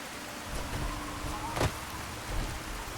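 Steady hiss of rain falling in a video game, continuous and even across the moment with a brief brighter splash or crackle in the middle and a soft low rumble underneath.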